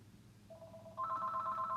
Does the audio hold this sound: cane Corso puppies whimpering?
no